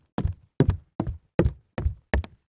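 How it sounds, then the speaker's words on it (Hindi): Six evenly spaced knocks on a house gate in a Hindi cartoon story, sharp and fairly close, with brief silences between each rap and no talk. "उनके घर पहुंचकर वह गेट खटखटाने लगती है।"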